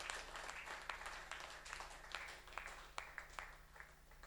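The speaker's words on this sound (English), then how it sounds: "Let's give them a resounding round of applause." Audience applause at a criminal law review conference, a fairly quiet, thin spread of clapping with a few sharper individual claps over a steady low electrical hum.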